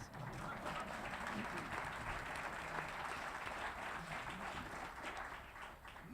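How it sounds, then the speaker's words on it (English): Faint, distant applause from an audience at an interfaith panel event, a soft continuous patter of many hands that holds evenly and tapers slightly at the end, with no voices over it. "We can applaud for our panelists."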